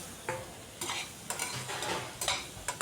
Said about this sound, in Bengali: লবণটা দিয়ে এবার খুব ভালো করে কষিয়ে নিতে হবে মশলার সাথে আলু আর মাছের মাথা